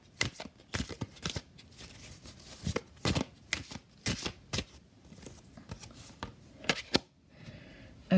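Oracle cards are shuffled by hand in quick, uneven bursts of papery flicks and soft slaps, fairly quiet and close, with no one speaking.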